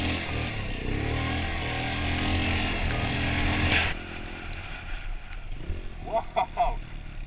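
A 100cc dirt bike rides through deep snow, its engine buzzing loud and close before dropping off sharply into quieter, uneven engine sounds, with a voice briefly heard.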